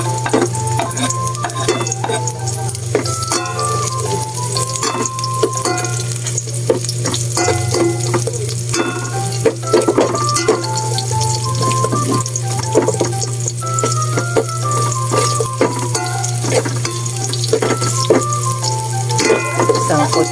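Onion and garlic fry in hot oil in a home kitchen pan while lechon paksiw is cooked, giving a steady, loud sizzle with scraping stir strokes and clinks throughout, under a constant low hum.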